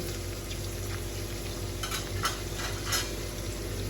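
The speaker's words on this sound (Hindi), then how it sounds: "प्याज हमारी ब्राउन होना स्टार्ट हो गई है" A steady sizzle of onions browning in a pan for mutton rice, with a few soft scraping stirs from a spoon near the end.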